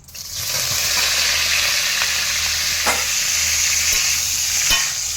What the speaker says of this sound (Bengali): দিয়ে ফুলকপিটা হালকা করে একটু নেড়ে নেবো